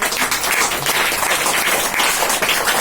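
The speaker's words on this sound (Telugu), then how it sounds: "Very good, clap కొట్టున్నారు." Children clapping together in a room, a dense, steady burst of applause that stays loud and close for the whole stretch, with no talking over it.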